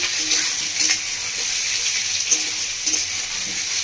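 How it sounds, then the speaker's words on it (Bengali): Pointed gourd pieces fry over a medium gas flame with a steady, close hiss of sizzling oil and occasional soft stirring clicks, no voices. "মিডিয়াম ফ্লেমে ভাজবো আমি, যাতে পটলটা খুব ভালোভাবে ভাজা হয়"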